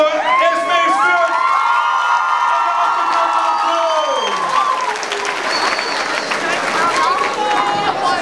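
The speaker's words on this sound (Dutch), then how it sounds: "een heel erg groot applaus voor SME Schurk" Audience applause and cheering at a celebration honouring a young singing-contest winner, a loud sustained wash of clapping with shouts and whoops, and a voice talking over it at the start.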